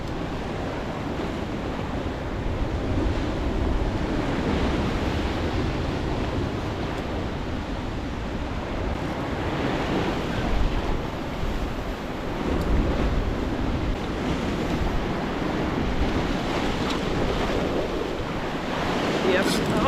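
Ocean waves surge and wash against a sea cliff during cliff fishing, a steady loud roar of surf with repeated swells and gusts of wind buffeting the microphone throughout.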